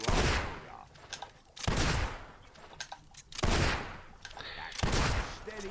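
Gunfire in the video game Fable 2: four loud, sharp shots spaced about one and a half seconds apart, each with a short decaying tail, with light background voices.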